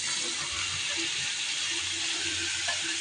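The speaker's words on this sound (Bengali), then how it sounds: "মশলাটা কষানো শেষ, লাউগুলো দিয়ে দেবো।" Pieces of bottle gourd hit a pan of frying spice paste, giving a steady, even sizzle throughout with faint kitchen clatter underneath.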